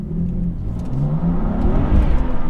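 A BMW M2 Competition fitted with a Remus exhaust, valves open, accelerates hard through first and second gear toward about 5,500 rpm, its engine note climbing with a gear change, loud and close with no talking.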